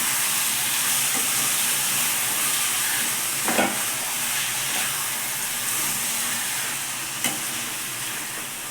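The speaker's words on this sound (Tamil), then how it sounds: "நல்லா வதக்கி விடணும்." Prawns and green chillies sauté in hot oil, giving a loud continuous sizzle broken by a few sharp scraping stirs of a spoon against the pan.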